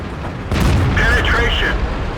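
Tank cannon firing in World of Tanks: one heavy booming shot with a broad rumbling burst that rings on for over a second, loud and close.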